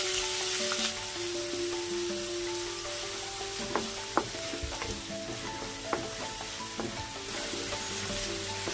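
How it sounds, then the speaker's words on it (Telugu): Finely chopped onion for a vegetable momo filling sizzles steadily in a hot pan, with occasional spoon scrapes and knocks as it is stirred, close and continuous. "కొంచెం కలిపాక ఉల్లిపాయ అండి సన్నగా కలుపుకోవాలి"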